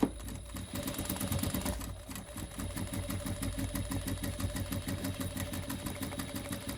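A sewing machine back stitching along the edge of a fabric panel for a makeup pouch hums in a steady, fast mechanical chatter that runs unbroken and close, with only a brief dip partway through.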